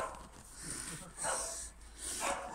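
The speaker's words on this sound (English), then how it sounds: "now we've got some silly dogs barking" Dogs barking at a distance, a few muffled barks and snorts coming in short bursts against outdoor background noise.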